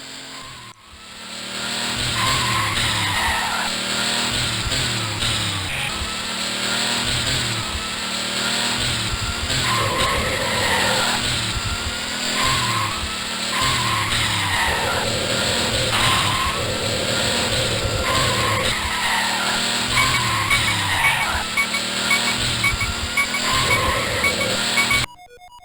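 Race cars in a fast top-down isometric arcade racing game skid and squeal their tires continuously over droning, revving engines. The loud, steady mix runs for about 25 seconds with no pauses.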